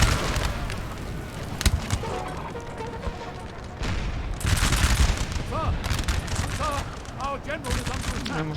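Musket volleys crackle in the Napoleonic battle game Napoleon: Total War as rapid, layered distant shots and heavier booms roll continuously under a talking voice.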